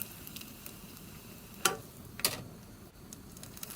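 Crab wontons deep frying in a pot of hot oil, a steady close sizzle and bubbling with two sharper crackling spurts partway through, no voices.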